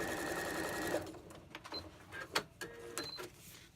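A sewing machine stitches quilt pieces in a steady whirring run, then stops and restarts in short bursts with clicks and mechanical clatter, close and fairly loud.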